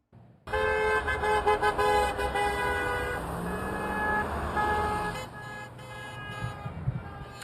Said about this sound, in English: workers honked their horns as they drove away